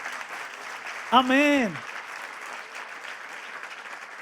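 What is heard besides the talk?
congregation applause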